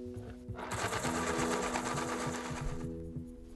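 An electric pencil sharpener grinds loudly for about two and a half seconds, a buzzing, whirring burst that starts and stops abruptly over low background hum.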